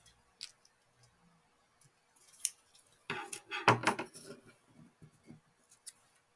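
Scissors snip foam tape off a roll during paper craft work, a few quiet clicks and then a short cluster of close metallic cuts and handling noises.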